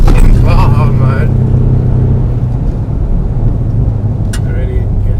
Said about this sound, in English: Already getting every little bit out of this engine. 2-litre twin turbo.